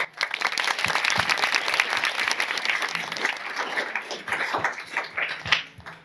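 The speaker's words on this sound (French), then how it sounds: "C'est bien de se faire applaudir." Sustained applause from an audience at a reading in Nice, a dense wash of many hands clapping loudly and steadily close by, tapering slightly near the end.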